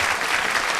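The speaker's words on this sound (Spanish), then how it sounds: "Un aplauso para él y bienvenido." A dense burst of audience applause welcomes a guest doctor speaker, steady and fairly loud throughout a brief moment.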